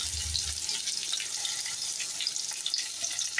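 Crushed garlic sizzles in hot ghee in a pan, a faint steady hiss and crackle with a low thump at the start, no talking.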